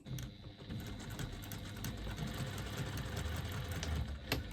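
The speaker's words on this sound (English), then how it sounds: "I'm going to stitch down the side." A sewing machine stitches down the side of a small fabric pouch, running in a steady, continuous hum with a fast mechanical chatter throughout, fairly close and unbroken by talk.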